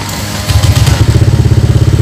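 A motorcycle engine fires up after the brake lever is pressed, then settles into a steady, rapid pulsing idle close by, with no talk over it.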